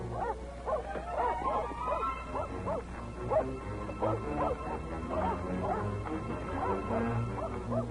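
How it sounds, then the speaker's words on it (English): Several dogs set loose to chase a man bark, yip and whimper in a rapid, overlapping series, moderately close, with voices faintly mixed in. "Turn the dogs loose. I said turn them loose."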